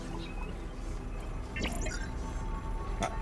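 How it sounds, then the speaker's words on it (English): A player character in the video game Grounded slurps water, giving brief wet, dripping squelches and a few liquid splashes over a low steady background hum. "I'm gonna slurp that water"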